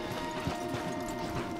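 Horse hooves clopping in Red Dead Redemption 2 as riders climb a wooded path, a steady run of soft, evenly spaced thuds under a low background hum, with no talk.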